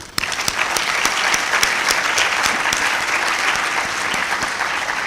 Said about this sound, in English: Let us recognize their contribution with a clap.